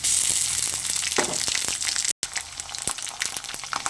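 Chopped onions sizzling in a pan as ginger-garlic paste and powdered spices go in, a loud steady crackle with a brief dropout partway through.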